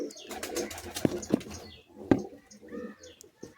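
A bonded pair of pet pigeons coos close by in a home loft, with low, throaty calls rising and falling over a few seconds. Soft clicks and faint voice sounds come through between the calls.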